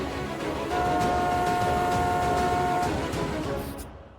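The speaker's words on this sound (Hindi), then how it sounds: "हॉर्न बज रहा है, ट्रैफिक की आवाज आ रही है" A single sustained vehicle horn blares for about two seconds over a dense wash of street traffic noise, fairly near and loud.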